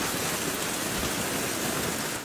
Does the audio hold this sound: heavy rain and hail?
yes